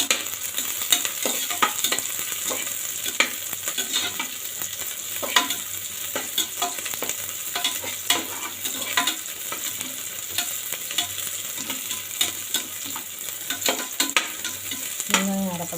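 Onions sauté in a pan for a soya dish, giving a constant soft sizzle punctuated by frequent close spatula taps and scrapes in an irregular stirring rhythm.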